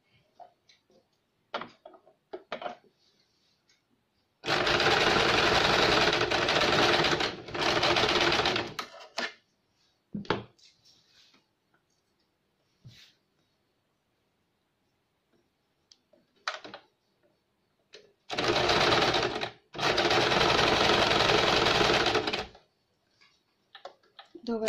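A sewing machine stitches a blouse shoulder seam in several loud close bursts, two long runs separated by quiet stretches filled with faint clicks and handling noises; a voice speaks briefly between runs.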